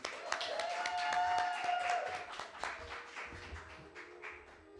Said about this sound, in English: let's make a warm round of applause for Kristie, darling.